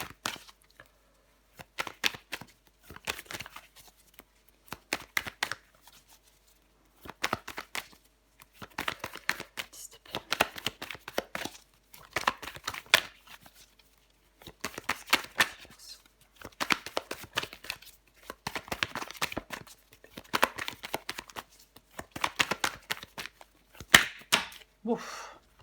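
Tarot cards being shuffled, handled and laid down on a table, coming as repeated bursts of soft papery slaps and flicks with short quiet gaps between them, close and fairly quiet, with no one talking.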